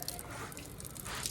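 Water from a garden hose splashing softly onto a flower bed, a faint continuous trickle and patter at close range with no talk.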